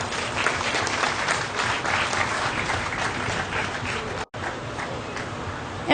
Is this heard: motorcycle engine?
no